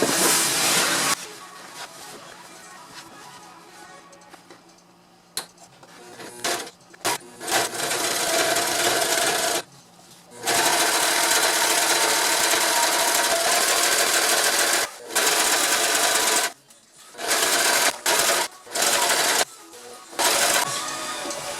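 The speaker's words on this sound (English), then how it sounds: "having a walking foot sewing machine is awesome" An industrial walking-foot sewing machine stitches a boat bimini in loud, rapid bursts, stopping and starting repeatedly with short silent gaps between runs.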